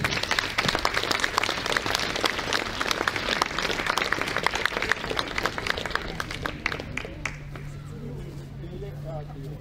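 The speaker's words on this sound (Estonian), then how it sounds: "Nii et aplaus!" An outdoor crowd at the 2016 Kunda friendship fair applauds, dense clapping filling the air for several seconds before thinning out, with speech and babble over it.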